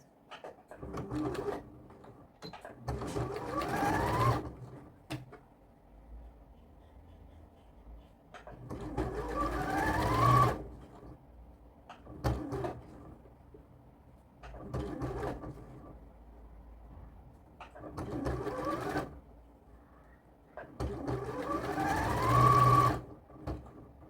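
A sewing machine runs straight-stitch along a blouse seam in several bursts of rapid whirring and clatter separated by quieter pauses, close and steady with no talk.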